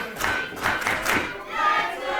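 Crowd noise from a North Pro Wrestling main event in a ballroom, a loud, steady roar of cheering and shouting with surging peaks, sounding close and filling the room.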